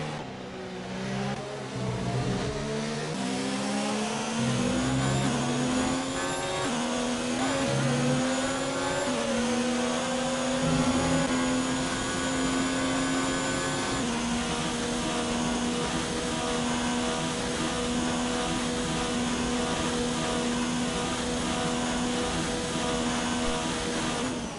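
Formula 1 race cars at the Belgian Grand Prix, engines whining loudly with rising and shifting pitch as they pass and accelerate, a continuous high-revving roar throughout.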